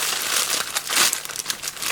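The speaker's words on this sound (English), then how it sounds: "I put the bottle in the plastic bag" Plastic bag crinkling and rustling as a small bottle is slipped inside, a close, continuous papery crackle with brief louder bursts over two seconds, no talk.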